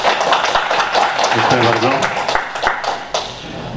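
An audience at a talk on robotics for CNC machining gives moderate, dignified applause that stays steady and fairly close, while someone speaks over it and thanks the crowd.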